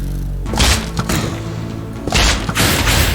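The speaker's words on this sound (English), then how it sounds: "Wait for the explosion. When that bar gets to the top, boom." Minecraft Wither boss spawning, with deep booming thuds and muffled explosive rumbles in two heavy bursts, fairly loud and close.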